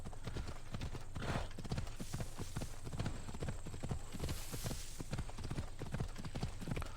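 Horse hooves clip-clop at a steady trot in the video game Assassin's Creed Odyssey, a continuous rhythmic clatter over ambient game noise with no talk.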